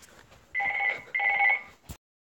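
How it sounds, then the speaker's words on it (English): An indoor telephone bell rings in two loud, evenly spaced bursts, each a bright buzzing trill, followed by a brief click and silence. "That's just the phone ringing."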